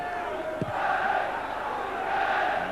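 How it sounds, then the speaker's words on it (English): Large all-ticket crowd of about 12,445 at a Millwall versus West Ham football match, a steady roar of massed voices with a brief shout rising above it. "Millwall's by far their biggest league crowd"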